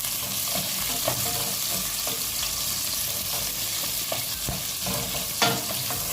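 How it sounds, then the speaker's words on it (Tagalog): Indian onions sauté in a pan for a mixed vegetable and chicken dish, a steady loud sizzle with occasional scraping stirs of a utensil, close by and without talk. "So ilagay natin guys yung sibuyas."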